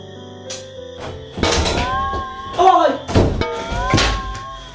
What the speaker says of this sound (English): I want to knock my door.